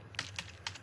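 A few soft, quick keystrokes on a computer keyboard as a command is typed, quiet and close, without speech.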